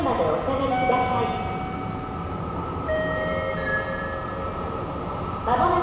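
A Meitetsu Airport Line train pulls into Rinku Tokoname station, a steady rumble and tonal motor whine under station sounds, with a brief louder passage at the end.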